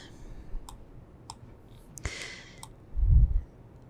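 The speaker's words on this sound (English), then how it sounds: "So let's click on that." A computer mouse clicks while working in Blender, giving a few faint, soft clicks followed by one sharper click, close and quiet, with a low bump of handling noise near the end and no talking.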